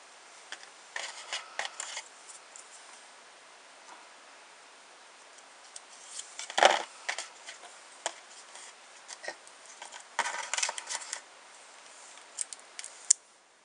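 Scissors snip apart paper cloud shapes cut with a cloud border die for a handmade card, a series of quiet, close, irregular snips and rustles with one sharper cut in the middle.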